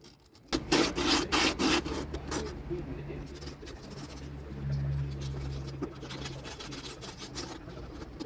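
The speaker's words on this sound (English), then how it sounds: "Sand the threads around the rod opening to remove excess rust and sediment." Sandpaper scrubs rust and sediment off the threads around the anode rod opening of a Suburban RV water heater, giving several quick rasping strokes up close, then a quieter, steady rubbing over a low background hum.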